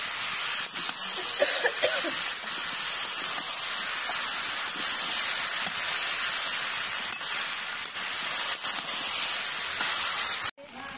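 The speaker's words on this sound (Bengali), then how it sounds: "বাটা দিচ্ছি মশলা ভালো করে কষে নেবো" A ginger, garlic, chili and cumin spice paste fries in a pan with a loud, constant sizzling hiss that carries on unbroken and close before cutting off sharply near the end.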